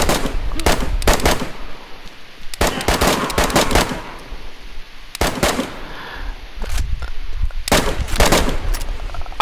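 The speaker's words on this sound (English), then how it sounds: "I was trying to shoot the zombie." Gunfire in DayZ as a player tries to shoot a zombie: loud bursts of rapid, close shots in several clusters, with short pauses between volleys.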